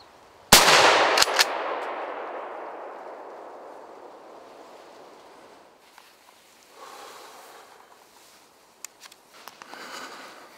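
A single loud, close gunshot at a young wild boar on a driven hunt in Poland, ringing out in a long rolling echo that fades over several seconds, followed by faint rustling and footsteps in the woods.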